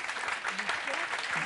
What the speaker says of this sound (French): Et vous pouvez applaudir Violaine Sauter